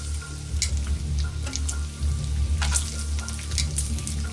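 Bacon frying in a pan, a steady close sizzle with scattered sharp pops and spits, alone without voices.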